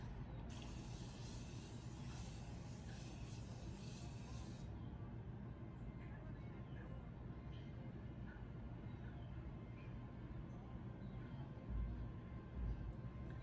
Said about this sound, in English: I am gonna go ahead and give my face a spray